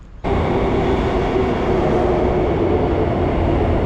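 A moving train rumbles as it rides along, a loud, steady, close interior roar that starts abruptly and then holds constant with no talking.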